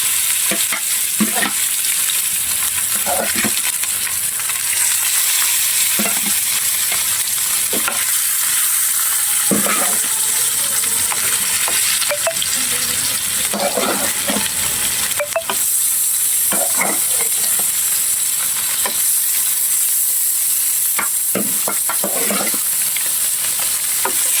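Fish frying in a thin wok gives a steady, loud sizzle throughout, broken by occasional sharp clinks and scrapes as the pieces are turned, with no talking.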